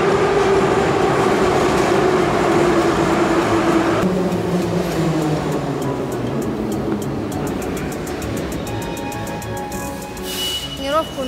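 A metro train rumbles loudly and steadily, with a descending whine as it slows and rhythmic clicking and squeals near the end.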